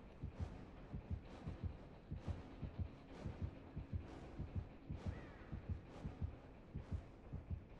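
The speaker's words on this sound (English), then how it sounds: "But it sounds like this heartbeat." The killer's heartbeat in the video game Dead by Daylight thumps as a steady, deep double-pulse about once per second, loud and regular against a low background hum.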